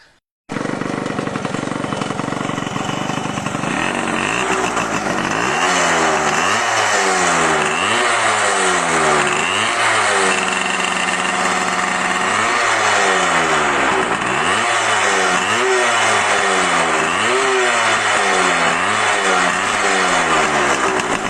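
A Yamaha RX 100 two-stroke motorcycle revved repeatedly, its loud engine climbing and falling in a string of sharp throttle blips over a constant idle, close up and alone for about twenty seconds.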